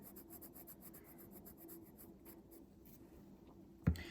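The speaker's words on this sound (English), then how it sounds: "now I always take the colored pencil and just go over what I did" A colored pencil shades back and forth over a drawing, quick rhythmic scratchy strokes up close, ending with a soft tap.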